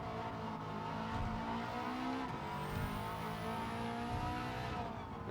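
Subaru Impreza WRX STI in Gran Turismo 7 on the Tokyo Expressway, its engine droning steadily at speed with a constant layered whine, heard close and loud without any talk.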